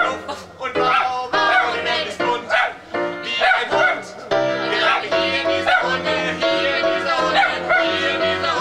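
Dogs bark and yip in quick, bright bursts over background music at a dog theatre show, loud and close throughout.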